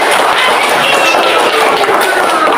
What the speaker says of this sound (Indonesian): Coba tepuk tangan untuk kelompoknya Rizky.